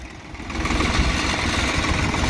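A Swaraj 855 FE tractor's diesel engine runs steadily close by, a loud, continuous rumbling drone with a slight rise in level, and no voices over it.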